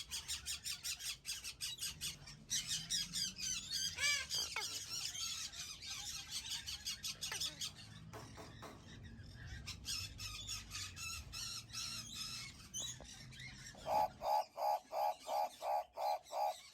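Exotic aviary birds squawk in repeated harsh bursts, close and loud, with shrill calls and squeals, then a steady run of evenly spaced hoarse calls near the end; no talking.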